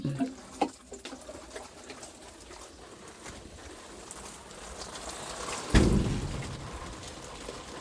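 Water from a hose or can patters and trickles onto chilli and fingerroot plants in a backyard garden on a morning, a soft steady spray with a louder splash near the end.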